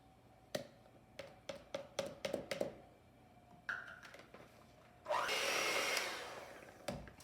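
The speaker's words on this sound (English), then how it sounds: "I'm going to turn my mixer on now and mix this up" An electric hand mixer runs as a steady loud whir for about two seconds, beating flour and eggs for a Dutch apple pancake batter, preceded by scattered taps and clatter of utensils in a kitchen.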